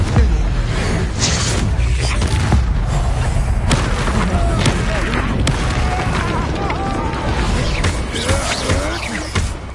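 A Confringo blasting spell goes off in Hogwarts Legacy, one of a continuous barrage of loud booming blasts, thuds and whooshes from combat, dense and close throughout, with a voice shouting amid the action.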